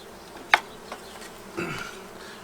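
Quiet insect buzzing with a few brief louder passes, honey bees flying close by around a hive, over a low steady background hum.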